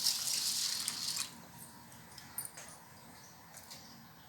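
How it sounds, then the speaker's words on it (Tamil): Water is poured over raw rice set to soak for peppered rice kozhukattai, a soft close splashing stream for about a second, followed by quiet settling drips and faint clicks. "நம்ம தண்ணி ஊற்றிடலாம்"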